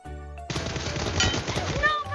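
Rapid automatic gunfire from PUBG Mobile in a team deathmatch, a loud burst of rattling shots close by that runs for about two seconds after a brief pause, with a voice speaking faintly.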